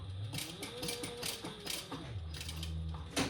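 Sailrite sewing machine basting through cotton fabric with interfacing, giving a steady mechanical run of needle clatter and gear ticking, close and moderately loud, alone for about three seconds.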